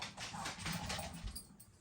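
A dog whimpers and whines softly indoors, wanting to be let outside, in a series of faint, thin, pleading cries amid household background noise.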